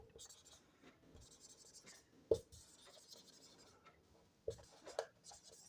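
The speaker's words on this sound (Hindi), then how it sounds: "तो अब यहाँ पे लिखते हैं" A marker squeaks and scratches across a board in short strokes during a physics lesson, soft and close, with occasional taps and a quiet voice in the background.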